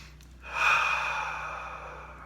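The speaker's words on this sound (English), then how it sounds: "You take a breath," A single slow inhale, soft and close, swells in and then trails off as a long airy breath in a quiet room.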